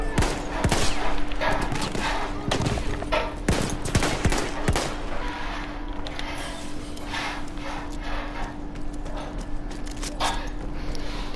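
Weapon fire in Battlefield 1 from a long-range gun firing pistol-size rounds: a dense burst of sharp shots in the first five seconds, then quieter scattered battle noise with a steady hum.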